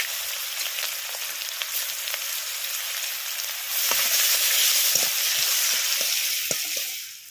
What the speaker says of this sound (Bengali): দিয়ে দিচ্ছি কুচনো পেঁয়াজ,